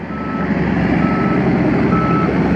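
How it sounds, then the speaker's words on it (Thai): A truck reversing with its backup alarm sounding, a steady repeating beep over a loud, continuous diesel engine rumble close by. "ดูถอยครับ ดูถอย ถอยเกียร์สี่นะ"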